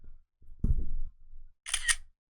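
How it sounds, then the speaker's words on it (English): A smartphone camera shutter sound, a quick double click, heard once after a soft handling thump in an otherwise quiet room. "If I try to take a picture with this phone,"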